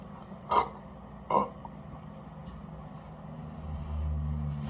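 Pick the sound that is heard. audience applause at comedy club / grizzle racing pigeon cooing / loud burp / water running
loud burp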